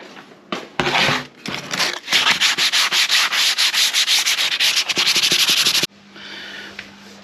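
Close, loud sanding scrubs surface rust off a car part on a K-swapped Honda Civic in rapid rhythmic back-and-forth strokes, ending abruptly before a quieter hum.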